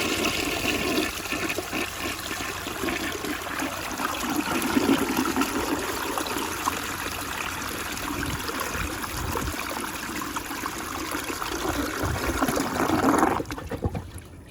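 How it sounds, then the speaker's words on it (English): An overfilled tank on a Rheem Claymore toilet flushes loudly and close up, a sustained rushing gush of water that runs for over ten seconds before cutting off sharply into a quiet trickle at the end. "here's a overfilled tank flush."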